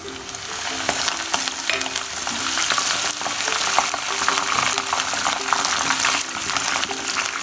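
Curry leaves and sliced green chilies fry in oil for Gobi 65, giving a steady close sizzle and crackle with light stirring clicks, continuous from start to finish.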